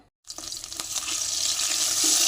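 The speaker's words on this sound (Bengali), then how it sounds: "তেল দেবো, গোটা গরম মশলা, তেজপাতা দেবো তেলের ওপরে" Whole garam masala and bay leaves hitting hot oil in a pan, giving a steady, close sizzle that starts abruptly after a brief silence and stays loud and continuous throughout.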